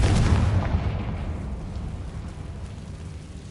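A Confringo spell explosion in the video game Hogwarts Legacy booms loudly at the start, then its rumbling roar decays slowly over a few seconds with no one speaking.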